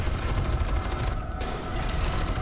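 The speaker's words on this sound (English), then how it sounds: "Stop shooting me." Continuous gunfire in the shooter game F.E.A.R. 2, a dense, steady barrage of rapid shots filling the whole stretch with only a brief thinning midway, loud and close.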